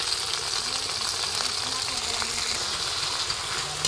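Corned beef sautéing in a pan gives a steady, close frying sizzle with faint stirring scrapes, and no one speaks over it.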